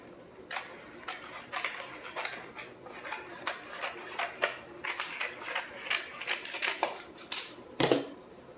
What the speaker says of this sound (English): Pull this back enough to where I can get some scissors behind it and cut it.